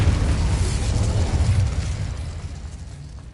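The Incendio fire spell cast in Hogwarts Legacy: a loud, deep, roaring blast that sustains and then slowly fades away, heard alone without talk.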